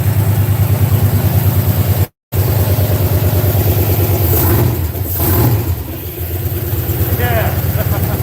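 A 1964 GMC engine runs loud and close, a steady, throbbing idle with a brief dropout early on and a slight dip in revs midway, while excited voices talk over it.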